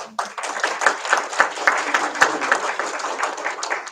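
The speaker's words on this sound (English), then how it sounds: "Clap for Stephanie" An audience at a school district governing board meeting claps steadily, a dense crowd of hands applauding for several seconds without a break.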